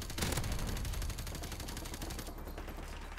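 Gunfire in the video game Modern Warfare Remastered, fairly faint and continuous, a steady rattle of shots with no talking over it.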